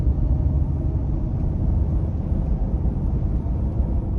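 Steady low droning road hum from 37-inch truck tires rolling at about 50, constant and unbroken with no voices.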